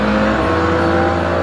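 Loud, steady engine roar from a sports car's 6-litre V12 rated at 660 horsepower, sustained and close with a held pitch and no voices.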